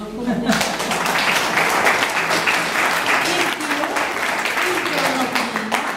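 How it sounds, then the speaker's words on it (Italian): A community crowd at an outdoor arts gathering with dance and poetry for trees applauds a first-prize winner: steady, dense clapping that fills all six seconds, with a few voices murmuring underneath. "quindi un applauso comunitario"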